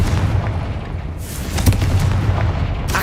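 A Confringo blasting spell going off in Hogwarts Legacy, a deep booming explosion with a rumbling tail and a second burst of crackling impact, loud and close.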